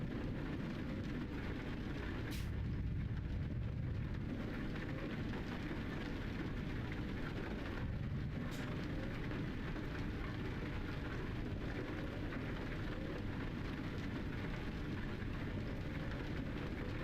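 Steady rain on a video game driving map near a train yard, a constant close wash of hissing patter with low rumble underneath, unbroken throughout and without talk.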